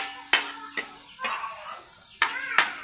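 Ground beef frying with ginger and garlic in a pan, with a soft sizzle beneath a handful of sharp utensil scrapes and clinks as the mixture is stirred.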